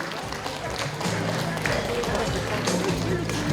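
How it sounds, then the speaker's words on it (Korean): An audience at a county-governor candidate debate claps in a dense, steady patter of many hands, with a voice talking over the applause throughout. "여러분 마지막 박수 한번 쳐주세요."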